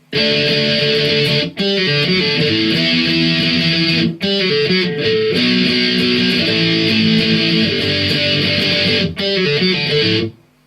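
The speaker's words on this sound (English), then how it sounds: "it's basically just some power chords and then a little bit of a pull off kind of riff" An electric guitar plays an intro riff of distorted power chords with a quick pull-off figure, loud and continuous with a few brief gaps between phrases, no voices.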